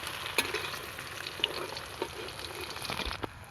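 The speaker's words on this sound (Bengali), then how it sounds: "এরকমভাবে সব মাছগুলো ভেজে তুলে নেব।" Snakehead fish pieces frying in hot oil give a steady, soft sizzle with a few sharp crackles and spits popping up now and then, faint and close, with no one talking.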